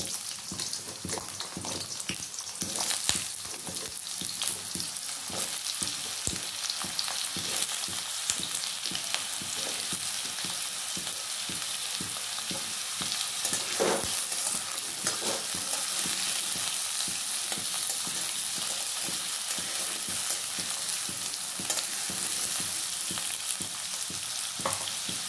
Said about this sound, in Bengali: এই যে আলুটা আমার ভাজা হচ্ছে এখনো